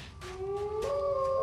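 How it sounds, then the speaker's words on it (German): Wolves howling nearby in an animated children's cartoon, with rising, sustained tonal howls overlapping over a low background. "Wölfe, die sind ganz in der Nähe."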